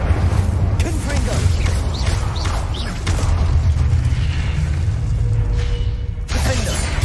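Confringo blasting spell exploding in Hogwarts Legacy, a heavy low boom rolling with layered crackling bursts and whooshes, loud and close, with brief game voice calls over it.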